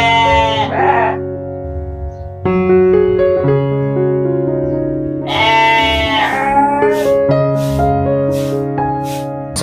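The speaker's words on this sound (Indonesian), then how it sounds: "ini adalah ternak kambing" Goats in a colony-style goat pen bleat loudly and close by, with several long overlapping cries from more than one animal across the whole stretch and no talk.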